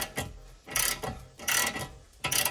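A ratchet wrench clicks in four quick close bursts as it tightens the crown nut during a steering bellow boot replacement on a Lexus IS300/GS300.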